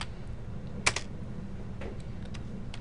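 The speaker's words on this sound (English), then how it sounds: "I'm just going to type something over here." A few sparse keystrokes on a computer keyboard while entering data into an Excel spreadsheet, with one sharper tap standing out among faint clicks over a quiet room hum.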